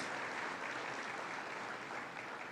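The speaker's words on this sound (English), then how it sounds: "Let's give Robin and Nicholas a round of applause." Faint, steady applause from a dinner and awards audience for Robin and Nicholas, a continuous wash of distant clapping with no voices.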